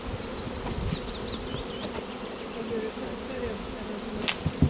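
Honeybees buzz around a hive, a dense continuous drone with individual insects whining past close by, no speech.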